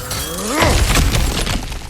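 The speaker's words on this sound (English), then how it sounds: "Ah, back to smashing through things for fun and profit." A breakable object smashed open in the God of War Ragnarok game: a loud crunching shatter with scattered debris clattering for a second afterward, the start overlapping a voice.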